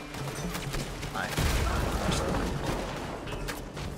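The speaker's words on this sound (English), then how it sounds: "They certainly did go flying from the explosions." Dense video-game gunfire and explosions from Red Dead Redemption 2 with a mod menu, a rapid fusillade of shots and a heavy boom about a third of the way in, rumbling on loud and continuous with voices faintly underneath.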